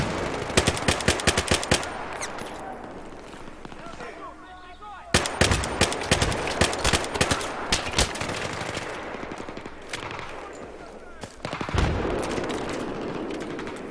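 Rapid automatic gunfire in a Battlefield game from a weak gun, fast repeated bursts with brief pauses, loud and close, later mixed with more distant shots.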